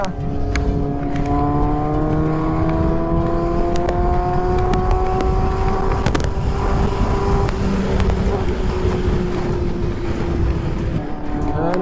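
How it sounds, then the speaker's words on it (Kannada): A Kawasaki Z800 sports motorcycle with a loud slip-on exhaust drones steadily while riding, its engine note rising slowly, with wind rush and a few sharp clicks. "ಇದು ಸ್ಲಿಪ್ ಆನ್ ಇಷ್ಟೊಂದು ಸೌಂಡ್ ಇದೆ"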